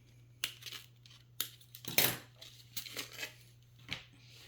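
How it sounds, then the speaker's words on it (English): Plastic bags being cut open with scissors for vinyl Father's Day goody bags, giving a series of sharp snips, crinkles and tearing rustles in uneven bursts, close by over a steady low hum. "I'm going to cut these bags open."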